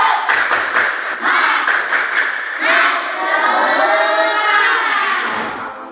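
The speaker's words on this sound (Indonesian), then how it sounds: "Coba tepuk semangat." Schoolchildren in a classroom do a rhythmic spirit clap, a patterned burst of sharp claps followed by a loud group shout of young voices.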